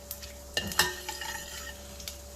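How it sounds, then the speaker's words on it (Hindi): Whole spices frying in hot oil for a Sindhi mutton curry, a faint, soft sizzle broken by a few light clinks and stirring scrapes from a spoon in the pan, brief and without speech. "तो तेल हमारा गरम हो चुका है, इसमें खड़े मसाले डाल देंगे। अब 1-2 मिनट इन मसालों को हम भून लेंगे"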